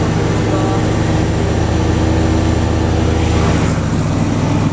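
A Simplicity Broadmoor SLT300 lawn tractor engine, struggling for power with its mower deck, drones steadily and loudly at a constant pitch, close to the listener, with no break.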